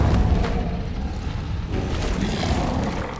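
Incendio fire spell cast in the video game Hogwarts Legacy, a loud dense rumbling whoosh of flame with a low booming body, sustained for a few seconds, close and full with no voice.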